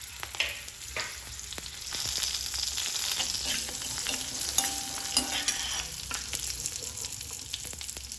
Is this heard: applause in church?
no